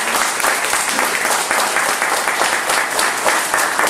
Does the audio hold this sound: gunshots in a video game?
no